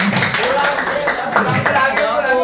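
Classroom clapping from a group of students, loud and sustained over a couple of seconds, mixed with voices chattering throughout.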